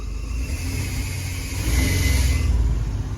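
A V6-swapped Suzuki Samurai engine runs close by, a steady mid-pitched idle that rises into a louder, rougher rev halfway through before settling back, with no talking over it.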